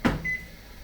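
A microwave oven heating plastisol and resin for soft plastic lures gives off a brief hum and click, followed by a thin tone that lasts a moment. It is fairly quiet and nobody is speaking.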